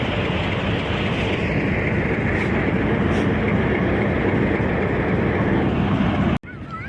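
A train moves through Taxila railway station with a loud, steady, continuous rumble that fills the whole stretch, then cuts off abruptly just before the end.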